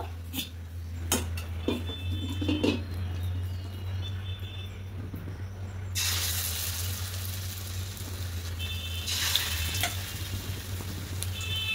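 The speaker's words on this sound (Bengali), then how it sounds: "এবার এই পিঠটা লাল লাল করে ভেজে নেব।" Raw potato fritters sizzle in a pan of hot oil with a loud, continuous crackle, broken by a few sharp clinks of a utensil against the pan.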